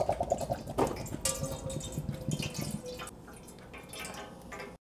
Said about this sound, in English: Now let's pour the coconut juice into the pot.